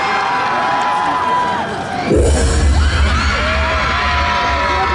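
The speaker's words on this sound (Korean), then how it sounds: "큰 박수 부탁드립니다" Audience at a Cheonan patriotic concert clapping and cheering for an idol group, a sudden burst of crowd noise with shouts that stays loud and sustained after a quieter start.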